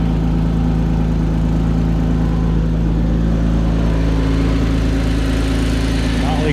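A Porsche Cayman S with catless headers idles steadily, raised up in the air, producing a loud, continuous, close engine drone with a deep rumble that holds constant throughout.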